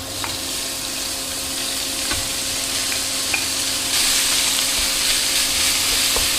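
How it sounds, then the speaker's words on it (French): Meat sizzling in hot olive oil in a sauté pan over maximum heat, a steady close frying hiss with occasional stirring scrapes, growing slightly louder toward the end. "Je vais y ajouter un petit peu d'huile d'olive et je vais verser les viandes."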